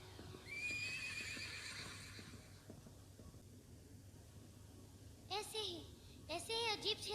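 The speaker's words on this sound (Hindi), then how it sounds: "यही आवाज थी हमारे उड़ने वाले घोड़े की" Neighing of a flying horse in a children's radio show about maps, with two short whinny bursts near the end over a steady background hum, after a fainter earlier harmonic call.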